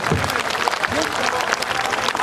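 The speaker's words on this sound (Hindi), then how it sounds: "तालियां बजा दीजिए" A crowd at an Uttarakhand Sansad gathering at Jantar Mantar, Delhi, claps in an outdoor welcome, a steady patter of applause with voices calling and talking over it throughout.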